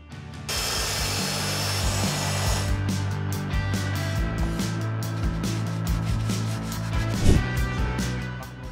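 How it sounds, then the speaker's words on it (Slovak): A Parkside jigsaw saws through a wooden board, its motor buzzing loudly and steadily for most of the stretch after a short quiet start, with a rasping cut and a brief louder jolt near the end. "Tu si teraz zrežeme do roviny priamočiarou pílou tak, aby sme mohli naše malé poličky nasadiť až na koniec rezu."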